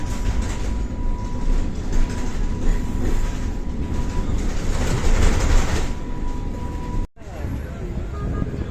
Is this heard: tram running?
yes